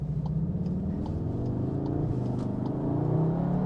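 A 2022 Cupra Leon Estate's engine and exhaust pull steadily under acceleration, a continuous low grunty hum with a gentle rising tone, heard from inside the cabin at moderate level.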